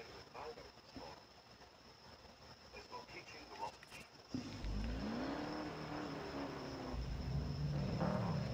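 A race car engine in the Need for Speed No Limits mobile racing game revs up and holds a loud, rising roar at launch, following quieter game ambience, with a person talking over it.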